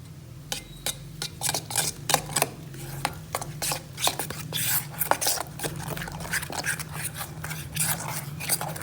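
Spoon scraping and tapping in a pan as potatoes are mixed with red chillies, garlic powder and garam masala, an irregular series of close, crisp clicks and scrapes over a low steady hum.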